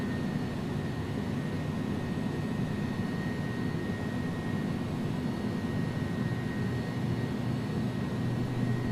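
Jet engines of an iniBuilds A300 airliner at climb power in the X-Plane 11 flight simulator, a steady, loud broadband roar with a thin high whine running throughout, no voices.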